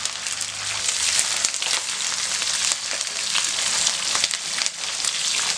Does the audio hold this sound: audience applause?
no